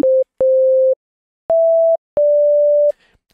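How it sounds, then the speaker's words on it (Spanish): FL Studio's default synthesizer plays plain sine wave tones, four clean pure notes of varying length with short gaps, the later two slightly higher in pitch, loud and isolated. "ya tenemos la onda senoidal"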